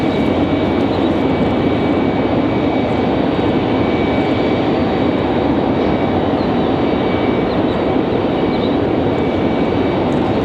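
A small Piper propeller plane from a flight school drones steadily at an airport, a constant loud engine hum with no rise or fall.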